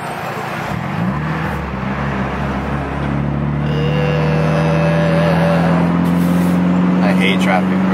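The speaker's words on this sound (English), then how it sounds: "I hate traffic, bro." Road traffic in Los Angeles heard from inside a car stuck among other vehicles: a steady close engine drone with rising and falling tones as cars move and pass, under quiet conversation.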